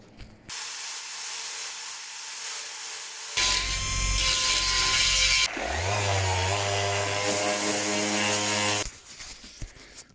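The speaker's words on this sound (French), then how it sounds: "Là aussi, il n'y a plus qu'à meuler tout ça." Angle grinder working a freshly welded seam on a 1956–58 cabriolet car body, a loud steady high whine that shifts pitch as it bites into the metal, then cuts off near the end.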